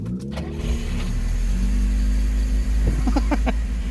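A Lada car engine cranks briefly and catches, then settles into a steady, close-up idle on choke, with a low continuous rumble throughout.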